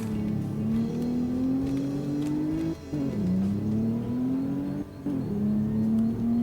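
A tuned Alfa Romeo Giulia launches hard on the highway, its engine climbing loudly through the revs in steady pulls, with two quick gearshift dips breaking the acceleration, heard from inside the car without talk.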